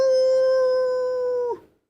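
A single long wolf howl, a sustained steady tone held for about a second and a half before sliding down and fading, clear and close with nothing else around it.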